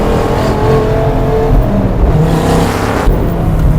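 A Dodge Viper SRT-10 accelerating on cold tyres, its engine a loud, deep rumbling drone with rising and falling revs, heard close from inside the car with no talk over it.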